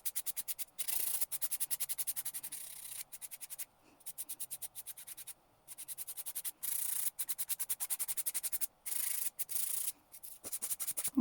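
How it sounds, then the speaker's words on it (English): A nail file works rapidly back and forth across a gel polish fingernail, producing soft, close, rhythmic scratchy strokes in bursts separated by brief pauses. "I'm just gonna go off camera and finish filing this nail"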